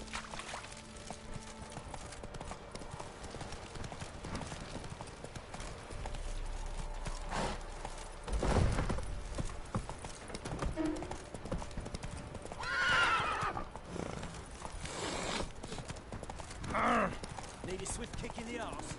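Roach, the horse in The Witcher video game, clip-clops steadily through the whole stretch, with occasional snorts and a whinny over a low game ambience.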